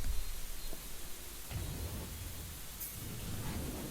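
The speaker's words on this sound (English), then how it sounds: "It's still raining." Steady rain hiss with low rumbling thunder in the racing game The Crew, during a wet drive in a 1969 Chevrolet Camaro RS; a continuous moderate wash of noise with a soft rumble near the start and no voices.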